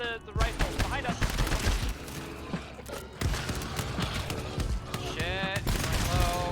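Dense, continuous gunfire from the co-op shooter GTFO, rapid shots and bursts layered over game music and effects, with players talking intermittently throughout.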